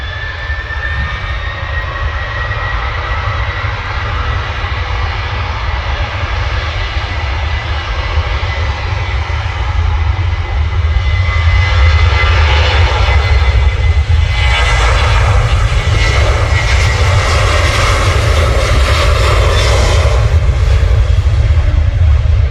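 A Ryanair jet airliner roars at Manchester Airport, its engines a loud, sustained rumble. A hissing whine swells as the roar builds over twenty seconds.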